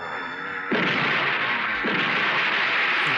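Gunfire in a Hindi comedy film scene bursts in as a loud sustained roar of shots, close and harsh, with a second surge about a second later.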